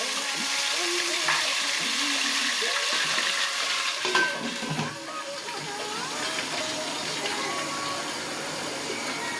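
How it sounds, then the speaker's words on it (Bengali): Onions sauté in a pan with a continuous bright sizzle and crackle, accompanied by scraping stir strokes and a louder clatter midway. "পেঁয়াজটা একটু হালকা ভুনা করে সটে করে আমি তোমাদের মাঝে ফিরে আসছি।"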